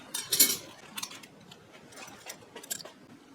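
Stainless steel flatware clinks and rattles in a box during unboxing, with a sharp burst of metallic jingling near the start followed by scattered light ticks and taps, all close and fairly quiet.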